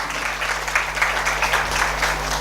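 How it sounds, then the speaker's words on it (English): Audience applause for a woman being honoured at an event, a steady dense wash of clapping over a low hum throughout. "Please give her a huge round of applause."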